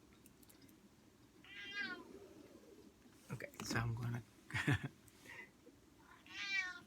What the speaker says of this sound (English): It's my kitty.